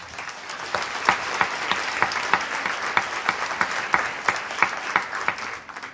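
Steady applause from a crowd at a memorial book launch for the Jesuit priest Pa'i Oliva, dense and close with distinct loud claps popping through before it fades slightly at the end.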